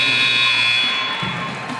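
Buzzer at a high school girls' basketball game, a steady electronic tone sounding for over a second over faint crowd noise in the gym.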